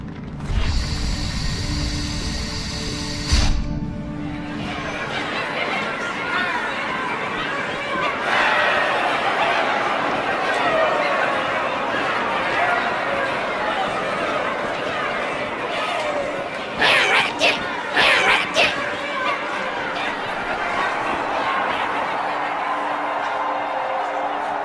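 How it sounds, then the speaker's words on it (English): A gathered crowd murmurs and chatters in a Halo 2 cutscene, a dense, steady wash of many voices with brief mechanical clanks and bursts rising out of it. "Drawn quite a crowd."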